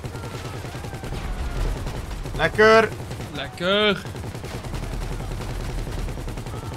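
Rapid automatic gunfire from the video game GTA V Online rattles in quick continuous bursts, with a voice briefly speaking over it.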